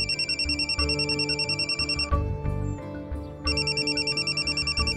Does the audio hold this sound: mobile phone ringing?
yes